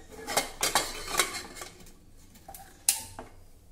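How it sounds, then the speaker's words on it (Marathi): A pressure cooker lid is handled and shut with a run of sharp metallic clanks and taps, close and fairly loud, followed by a brief pause and one last bright clink. "झाकण बंद करू"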